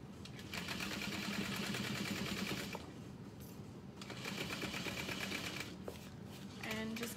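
A sewing machine sews a satchel bag just beside its basted piping, running in two long, fairly quiet steady stretches with a brief pause between.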